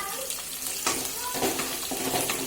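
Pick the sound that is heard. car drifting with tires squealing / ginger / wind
ginger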